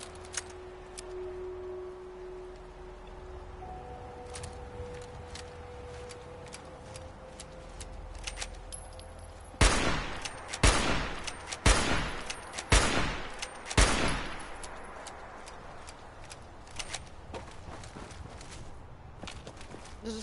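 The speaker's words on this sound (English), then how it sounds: "This is called a lever gun" A lever-action rifle in Fallout 4's Far Harbor fires five loud, sharp shots, each about a second apart. Quiet game ambience and a steady electronic tone come before the shots, and a faint tail follows them.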